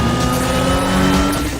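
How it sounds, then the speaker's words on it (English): A race car on nitrous boost climbs a hill in Need for Speed: The Run, its engine holding a loud, steady, high-revving drone throughout with no pause. "I use nitrous up this hill to make sure that we keep the car in the power band."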